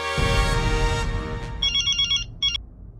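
In a Hindi TV comedy scene, a telephone's electronic ring sounds in two short bursts of warbling tones after a loud musical opening, clear and close.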